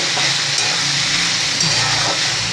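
Beans roast in hot oil in a pan and are stirred, making a loud, continuous, dense sizzle with a faint scraping texture throughout.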